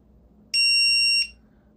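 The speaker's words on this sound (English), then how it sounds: "So you'll see it beeps every 4 seconds with the light on." An FPV drone finder buzzer sounds after radio telemetry is lost, giving a single loud, piercing electronic beep lasting under a second in a quiet room.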